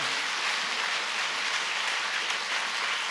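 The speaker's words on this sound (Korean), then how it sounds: "큰 격려와 응원의 박수를 부탁을 드립니다" A congregation at a Korean church worship service gives sustained, even applause, a continuous bright patter of many hands clapping at moderate distance.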